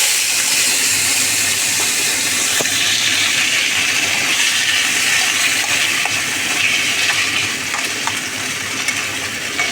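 Washed and cut radish, red radish and potatoes frying in hot oil with black cumin seeds for a tangra fish dish, a steady loud sizzle and crackle that carries on without pause, no voices.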